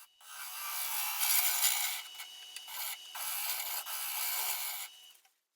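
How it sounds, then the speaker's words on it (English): A traditional inside bowl scraper with a negative rake rasps against an oak burl and resin bowl spinning on a wood lathe, a loud hissing scrape that runs in long strokes with brief breaks, close and alone. "this is a traditional inside bowl scraper with a negative rake"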